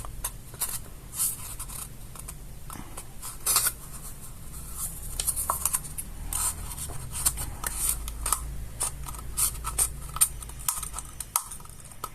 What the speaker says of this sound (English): The scissors not that sharp anymore.